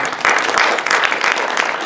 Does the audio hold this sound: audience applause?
yes